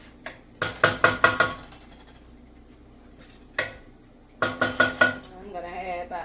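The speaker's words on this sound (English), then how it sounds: "Next, we're going to add our tomatoes." Tomatoes are added to a curry butter bean pot, heard as quick bursts of clattering metal scrapes and knocks from a utensil against the pot, in two rapid clusters, with a soft sizzle and a brief voice near the end.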